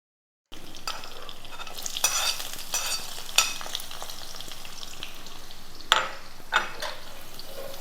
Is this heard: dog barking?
no